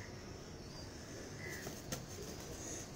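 Janjali breed pigeons, a Lahore champion cross, cooing softly in a loft, faint low coos over a steady background hiss with a brief flutter or knock near the middle.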